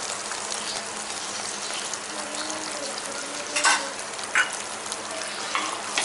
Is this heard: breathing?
no